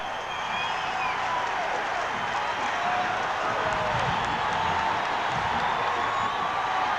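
Large stadium crowd at a 1983 N.C. State versus Clemson college football game in Clemson, South Carolina, a steady broad roar with faint whistles and cheers, continuous and moderately loud throughout.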